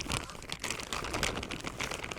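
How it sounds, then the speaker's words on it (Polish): Carp fishing bait boilies being crumbled by hand over a pellet mix, producing close, continuous crinkly crunching and crumbling sounds with no talking. "Trochę tutaj pokruszę kulek."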